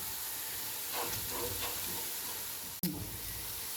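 Whole garlic cloves drop into a hot pot of softened ingredients while cooking Kabuli Uzbek pulao, giving a steady close hiss of sizzling oil with a brief sharp clatter near the end.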